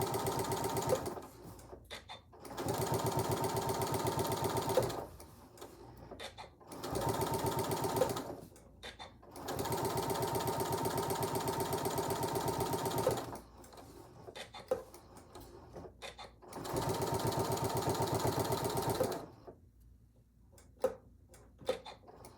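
A sewing machine back stitches a zipper pouch in several bursts of steady running whir, separated by short pauses, near and clear.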